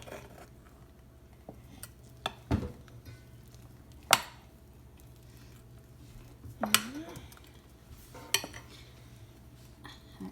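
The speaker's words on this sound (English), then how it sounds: "Now just make sure that you stirred in everything that's at the bottom of the bowl as well." A double chocolate bun mixture is stirred in a bowl, giving scattered knocks and scrapes of a utensil against the bowl, a few sharper clinks standing out over a low steady hum, with no talking.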